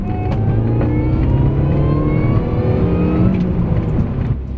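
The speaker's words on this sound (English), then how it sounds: "what really stands out is how much faster you hear the supercharger now." A supercharged Mini Cooper S R53 with a reduction pulley accelerates hard, its engine note climbing steadily with a whining supercharger rising above a loud, continuous rumble.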